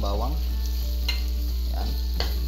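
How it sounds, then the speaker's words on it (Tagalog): Garlic sizzling in hot oil in a pan, stirred now and then with a utensil, giving a steady close frying crackle with a few scraping strokes and no talk. "So igisa muna natin ang bawang."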